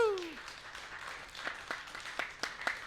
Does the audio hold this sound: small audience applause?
yes